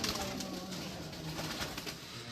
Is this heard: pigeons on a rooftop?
yes